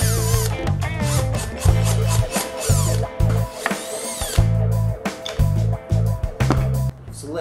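A power drill backs screws out of runners fixed to reclaimed plywood panels, sounding in short repeated whirring bursts with rising and falling pitch and brief pauses between them, close and fairly loud.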